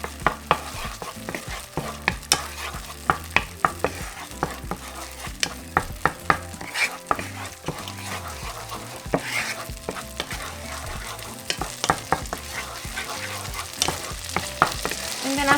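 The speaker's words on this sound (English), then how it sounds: "once our butter has melted, we're going to add our minced garlic. Going to move it around" Minced garlic stirred and frying in melted butter in a pan for a chorizo stuffing, with a steady sizzle broken by frequent scraping and clicking of a utensil close by.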